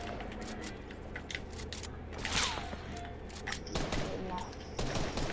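Video game gunfire crackles in scattered quick bursts, moderately loud against a busy background, with sharper clusters midway and toward the end.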